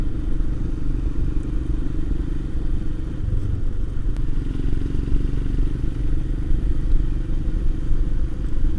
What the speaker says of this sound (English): the steady beat of the exhaust of this Himalayan